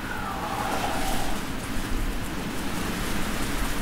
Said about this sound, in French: qu'est-ce qu'il pleut ici, c'est ouf.